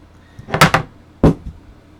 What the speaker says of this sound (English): I just knocked my hole punch on the floor